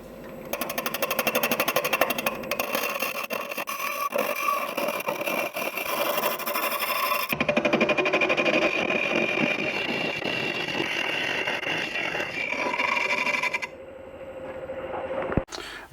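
A wood lathe turns a travel coffee mug with a steady, loud mechanical whir and rattle that runs continuously, shifting in tone partway through before dropping off near the end.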